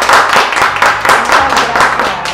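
A small group applauds to welcome a guest on a live café show, a loud burst of rapid, irregular hand clapping that carries on steadily throughout, close to the microphone.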